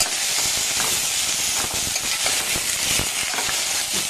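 Brinjal pieces frying with green chilli, chilli powder and sambar powder, a steady dense sizzle with scattered clicks of stirring running throughout, close and fairly loud.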